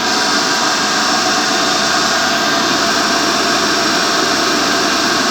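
A DC motor-generator set running during a Hopkinson's test in a lab, giving a loud, steady mechanical hum and whine that holds constant throughout with no pauses.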